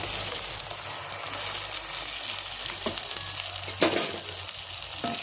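Tomato gravy for a paneer dish sizzles and spits in a pan while it is stirred. Steady frying hiss continues throughout, with a brief louder scrape near the end.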